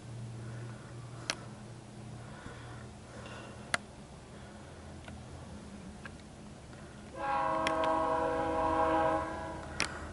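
A BNSF C44-9W diesel locomotive, number 5529, leads a manifest freight in El Paso, Texas, sounding an unusual horn: a loud, steady chord blast of about two seconds after quiet rail ambience with faint ticking.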